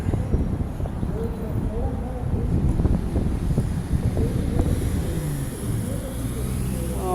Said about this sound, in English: Actually quite strong wind gusts at the moment